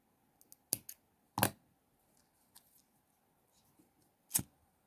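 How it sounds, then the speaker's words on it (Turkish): Scissors snipping excess macrame cord ends on a bracelet, a few quiet sharp clicks spaced apart in a hushed room. "Fazlalıkları kesip ucunu yakıyoruz"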